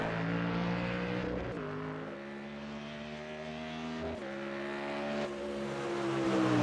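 A Mercedes GT4 race car in iRacing at Mosport drones loudly and close. It climbs steadily in pitch through each gear, and three upshifts briefly cut and drop the engine note before it pulls hard again.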